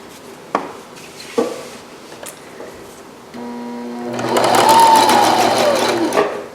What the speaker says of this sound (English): I'm going to sew a square.